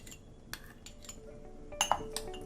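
A spoon clinks against a bowl while mayonnaise is added to a veggie omelette mixture, a few sharp clinks clustered near the end over faint background noise.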